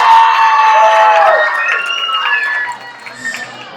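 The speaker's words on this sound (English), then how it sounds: "let's give a round of applause." Wedding guests at a reception cheer and whoop after a speech, a loud burst of crowd voices and shouts that gradually fades, with some clapping mixed in.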